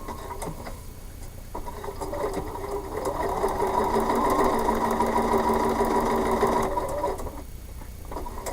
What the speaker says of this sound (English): When you go to your sewing machine, you need to make sure you have your stitches smaller while you're doing this.